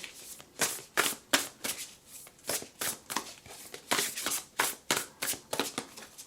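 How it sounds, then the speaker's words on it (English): Oracle cards being shuffled in quick repeated riffles and bridges, a crisp rapid flutter heard up close with short pauses between bursts, no talking. "Let's go ahead and shuffle."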